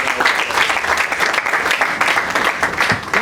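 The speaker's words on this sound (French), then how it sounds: "Est-ce qu'on peut applaudir pour ça?" A live audience breaks into sustained applause, dense and even clapping from many hands that fills the room at steady loudness from start to finish, with no voices over it.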